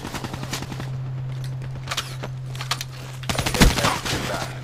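Video game gunfire crackling in quick automatic bursts, scattered and fairly faint at first, then a louder, denser burst of shots near the end, over a steady low hum.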